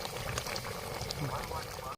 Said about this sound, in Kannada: ಜವಾರಿ ಚಿಕನ್ ಹಂಗ ಕತ ಕುದಿಯಾಕತ್ತೈತಿ ನೋಡ್ರಿ